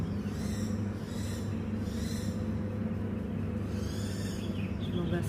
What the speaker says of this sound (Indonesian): Suara burung liar.